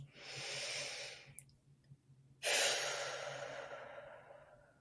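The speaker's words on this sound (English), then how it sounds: "taking a deep breath" A slow, deep breath drawn in while leaning back against a tree outdoors, a long airy inhale, a short pause, then a louder whooshing exhale that tapers off gradually, close to the ear and alone.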